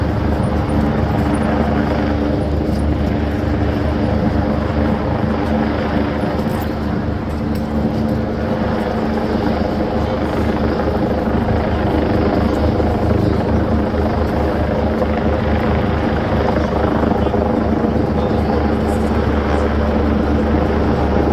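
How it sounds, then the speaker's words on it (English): A helicopter flies overhead in a city street during a police incident, its heavy rotor thump and turbine roar loud and continuous throughout, swamping the background with no breaks. "that helicopter noise is being really heavily picked up by the mic"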